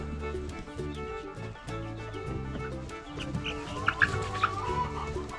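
Baby chicks settling into a new barn, with a dense, continuous chorus of clucking and chirping close by, a few brighter peeps standing out near the end.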